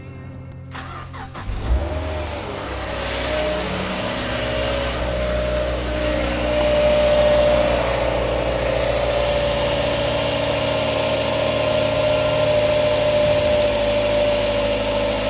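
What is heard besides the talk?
Mazda MX5 engine idling while bleeding coolant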